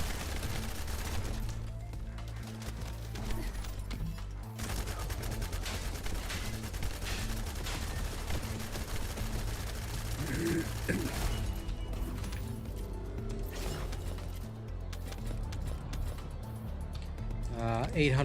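Gunfire from the video game The First Descendant, with dense, sustained bursts of shots and sharp cracks running through the whole stretch, loud and busy, along with a voice talking.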